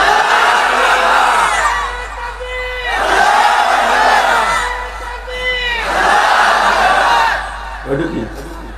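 Crowd at a religious sermon gathering shouting takbir in three loud, massed call-and-response waves, each swelling and fading with many voices together, a lone speaker leading between them.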